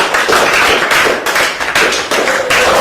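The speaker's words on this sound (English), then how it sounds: "Alright, class, I want you all to clap for Ngozi and Sonia." A school class applauding two classmates, a loud dense burst of close clapping that continues steadily throughout without a break.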